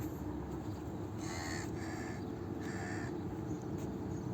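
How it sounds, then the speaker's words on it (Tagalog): A crow caws several times in short, harsh bursts over a steady low background hum beside a Dubai canal, sounding fairly faint and somewhat distant. "Napakagaling ng alaga kong uwak ko"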